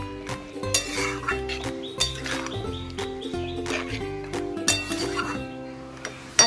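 A spoon or spatula scrapes and clinks against a pan while fried potatoes are stirred into a stingray (shankar) fish curry, in repeated uneven strokes over a steady background with faint tonal music.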